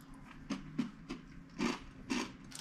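Crunchy Baby Star Japanese crispy noodle snacks being chewed close up, with about six distinct crisp bites and crunches coming in an irregular rhythm, no talking.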